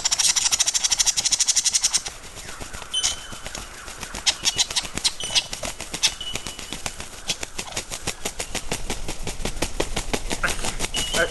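A male lyrebird imitating a mobbing flock: a dense, continuous chorus of harsh chattering bird calls mixed with rapid clicking, like a whole flock scolding at once, fairly close and steady.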